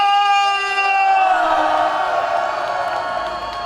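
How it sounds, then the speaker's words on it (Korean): A crowd at a political campaign rally in the Masan fish market roars with sustained shouting and cheering, loud and continuous, with raised voices blending into one steady wall of sound. "승리를 위해서 여러분의 함성 3초간 발사!"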